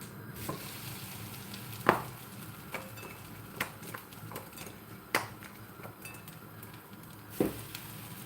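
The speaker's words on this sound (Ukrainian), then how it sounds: "Друга частина смажиться." Steady sizzling of food frying in a pan, with occasional sharp clinks of a utensil stirring and scraping against the pan. No talking.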